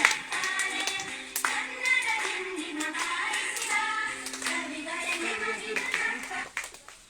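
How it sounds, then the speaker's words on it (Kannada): A crowd at a gathering honouring a kabaddi captain claps together in sustained applause, dense and fairly close, tapering off toward the end, with voices mixed in. "ಸರ್, ಚಪ್ಪಾಳೆ ಬರಲಿ."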